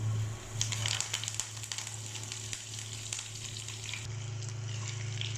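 Cumin and asafoetida sizzling in hot oil for a Gujarati tempering for dhaba-style khichdi on a low gas flame, a steady crackling fry with sharp pops and a constant low hum beneath, no talking.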